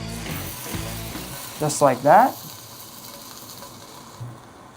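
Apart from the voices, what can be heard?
bacon-wrapped scallops sizzling in hot cast iron pan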